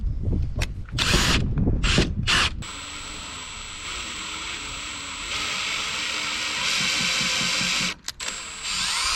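A power drill drives screws into the wall of a tiny home on wheels, where the screws are resisting. A few short bursts give way to a long, steady, high motor whine that cuts off near the end.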